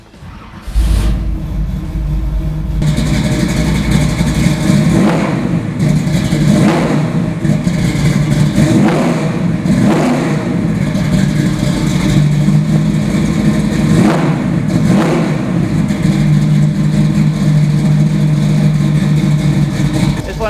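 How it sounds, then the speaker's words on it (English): A 1970 Nova SS Pro Touring with a V8 that is no regular 350 cranks and catches on a cold morning, then settles into a loud, lumpy idle broken by a steady series of sharp throttle blips. "let me fire it for you so you can hear it."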